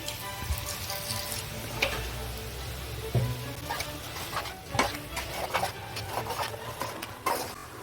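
Water is poured into frying masala for Delhi-style shahi paneer, raising a steady hissing sizzle with scattered spatters and scraping stirs in the pan, close and continuous.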